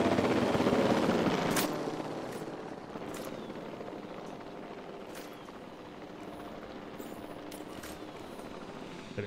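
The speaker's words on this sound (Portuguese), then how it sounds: "eu vou ter que mandar o meu helicóptero dar uma sedada neles" A loud rotor-like drone with a chopping texture fills the opening seconds, then drops to a steadier, quieter mechanical roar with faint sharp pops, from a helicopter in the video game Jurassic World Evolution 2.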